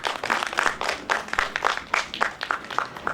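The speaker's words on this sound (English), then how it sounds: "Can I ask you all to give a round of applause and welcome" At a film festival inaugural event, a small audience claps to welcome a speaker, a loose, uneven run of separate claps and bursts that stays fairly faint.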